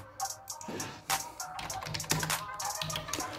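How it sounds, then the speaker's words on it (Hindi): Typing on a Dell KM117 wireless keyboard, a run of sharp, close key clicks in an uneven rhythm, fairly loud and heard alone. "अगर मैं कीबोर्ड की बात करूँ तो कीबोर्ड की टाइपिंग मैं अभी एक बार करता हूँ"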